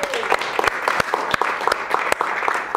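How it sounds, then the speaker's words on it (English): An audience applauds a man credited with creating the Rail World Wildlife Haven in Peterborough, a dense round of clapping with some sharper claps standing out, steady and fairly loud throughout. "Give him a round of applause."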